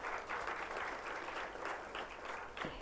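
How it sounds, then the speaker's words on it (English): Audience applause at the opening of a student literature festival, a steady wash of many hands clapping that holds at an even level throughout, with no speech over it. "Please give him a round of applause."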